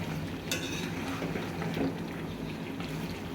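Chicken and spices stirred in a pan give a continuous moist sizzle with soft scraping and an occasional clink of utensil on metal, steady and close throughout.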